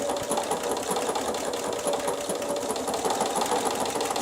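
A sewing machine stitches a crochet-look edging with a continuous, rapid, evenly pulsing mechanical chatter that stays loud and close from start to finish.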